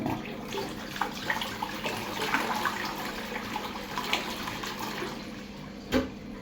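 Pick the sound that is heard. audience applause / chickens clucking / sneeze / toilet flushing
toilet flushing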